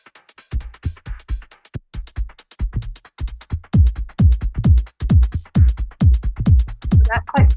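Resampled grain delay effect in Ableton, a stream of rapid, stuttering percussive thumps and clicks that build into a dense, driving rhythmic pattern, loud and without talk.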